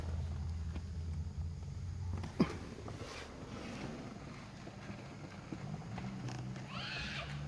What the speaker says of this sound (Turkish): Yavru kediyi arabadan çıkarmam lazım